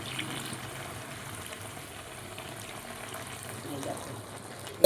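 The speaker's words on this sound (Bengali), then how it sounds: "এখন আমি একটু অল্প করে পরিমাণ মতন একটু জল দেবো।" Water trickles into a pan of meat curry, a steady soft pour of liquid running for several seconds at close range with no talk over it.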